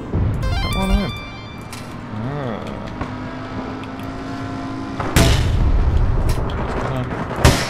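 Grenade launcher blasts and gunfire in the online shooter APB Reloaded, a couple of heavy booms with a long rumbling tail, and a loud burst near the end, mixed with engine drone and game sounds while a player talks.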